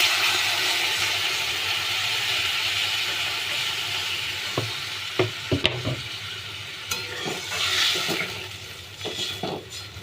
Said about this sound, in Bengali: এবার আমি গরম জল রাখা আছে, আমি গরম জল ঢেলে দিলাম।